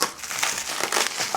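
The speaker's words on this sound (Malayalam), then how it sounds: "ഇനി ലാസ്റ്റ് ആൻഡ് ഫൈനൽ സാധനം നമ്മൾ അൺബോക്സ് ചെയ്യുവാണ്" Plastic packaging crinkles and crackles in quick, close bursts while a pet swing is being unboxed, heard alone with no talk.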